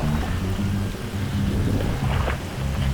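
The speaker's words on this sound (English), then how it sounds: "It's raining, and sometimes when the mic gets water in it, it's no good." Heavy rain falls steadily in a forest, a dense loud wash with low rumbling buffets from water hitting the microphone, continuous and without voices.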